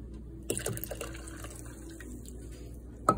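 Warm milk for a cacao drink is poured from a saucepan in a home kitchen, a faint, soft trickle with a few small splashes and clinks near the start and a sharper knock at the end.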